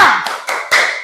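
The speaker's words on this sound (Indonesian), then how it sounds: "Tepuk semangat." Crisp group hand claps for an ice-breaking clapping game, tepuk semangat, in a class before a volleyball lesson: a few sharp, evenly spaced claps over about a second, close and fairly loud.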